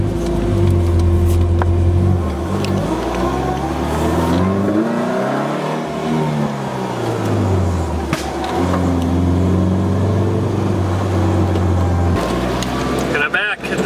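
A Porsche car engine runs loudly throughout, with revs swelling and falling in a smooth rise around the middle before settling back to a steady rumble, and a brief voice is heard near the end.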